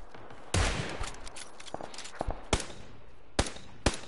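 Gunfire in the video game PUBG: a handful of sharp, separate shots ring out at irregular intervals over a quiet background, some louder and closer than others, with no talk.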